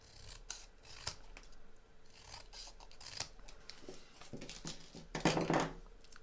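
Scissors trim card pieces for a pop-up cube card, with a run of crisp, close snips and rasping cuts, the last few loudest, and no talking.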